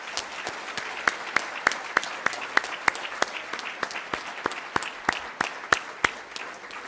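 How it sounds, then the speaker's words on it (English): Sparse, distinct hand claps from an audience honouring school sports award winners at a 2023 Victorian awards ceremony, individual sharp claps standing out over a soft, distant wash of applause in a large room. "Would you please join me in giving all 34 award winners a big round of applause."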